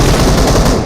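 Gunfire in the BGMI mobile battle royale game, a loud, dense, rapid automatic burst that fills the whole short moment without a pause.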